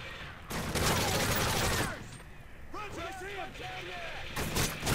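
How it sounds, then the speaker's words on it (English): Bursts of video game gunfire from Call of Duty: Modern Warfare 3 zombies mode, a dense rattling volley followed by scattered shots, with voices talking over the fighting. "I'm just gonna shoot him"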